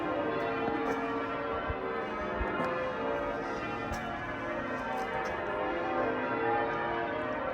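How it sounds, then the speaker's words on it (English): The bells of York Minster ring continuously in a dense, overlapping wash of tolling tones, resonant and somewhat distant, with no talking. "We had about half an hour of the bells there."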